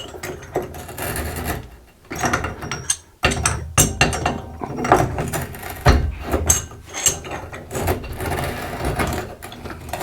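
A bathtub diverter is unscrewed by hand, giving close, repeated ratcheting clicks and gritty metal-on-metal turning in uneven bursts with brief pauses between twists.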